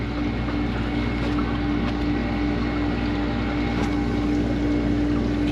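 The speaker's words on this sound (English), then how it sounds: "Condenser fan's working, compressor's running." An ice machine's condenser fan and compressor run together, a constant low hum with a steady tonal whine and fan rush, close and unchanging.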